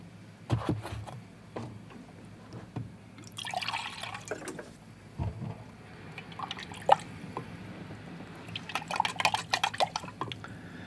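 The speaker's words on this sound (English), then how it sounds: "I'm going to get some fresh water in my water bucket" Fresh water poured into a water bucket for watercolor painting, with scattered drips, splashes and trickling bursts at close range, fairly quiet and without speech.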